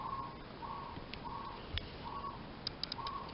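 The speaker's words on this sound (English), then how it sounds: "I don't know if you can hear the birds," Birds outdoors give a repeated, faint chirping call, several short phrases spaced about half a second apart, with a few sharper higher notes toward the end over a quiet background.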